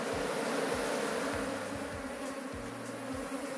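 Honeybees humming steadily around a hive box whose brood chamber is full, ready for a honey super, on a cool day; a dense continuous buzz with individual bees droning past up close.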